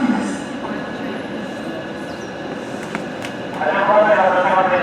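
A JR West Kansai Airport rapid train bound for Kansai Airport and Wakayama pulls into Tennoji station on a typhoon day. A steady rail rumble swells louder near the end, while a voice carries faintly in the background.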